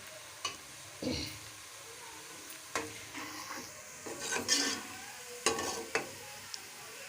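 Onions fry in a pan for chicken korma, a quiet, low sizzle broken by several distinct stirring scrapes and knocks of a spoon against the pan.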